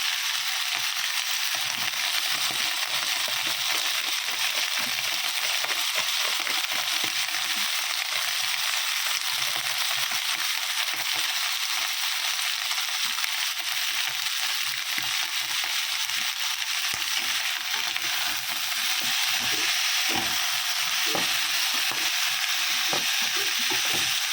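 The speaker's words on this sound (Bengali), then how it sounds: "এখানে একটু জিরে দিয়ে দিই" Cumin seeds fry in hot oil with a loud, dense, unbroken sizzle and rapid crackling, close up and steady throughout with no talking.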